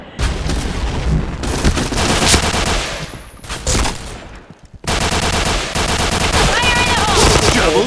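Video game gunfire rattles in loud, dense rapid bursts, with a brief lull in the middle before another sustained volley of shots.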